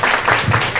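Audience applause for a historian introduced at a talk on the land history of Rio's suburbs, a dense, steady wash of many hands clapping close and loud, filling the whole moment without a break.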